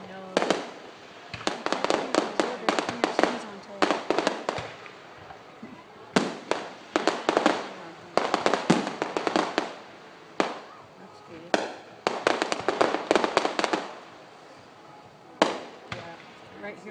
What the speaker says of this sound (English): We're watching fireworks right now.